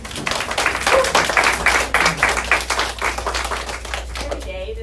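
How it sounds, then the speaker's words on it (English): A small roundtable audience at a maternal health event claps in a round of applause, close and crisp, fading somewhat toward the end as a voice briefly comes in. "Can we have a round of applause?"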